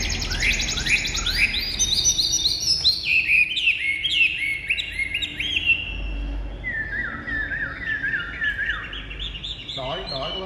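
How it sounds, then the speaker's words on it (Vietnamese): A caged pet songbird sings a long run of bright, rapid whistled phrases and trills, loud and close, over a steady low background rumble, with no talk. "Chim chơi rất là tốt mà này."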